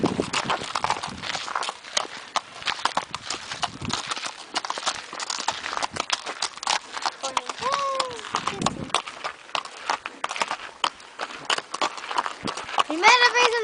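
A ridden horse's hooves clip-clop on a farm, a steady close rhythm of hoof strikes throughout, with people talking over it and a brief vocal sound near the end.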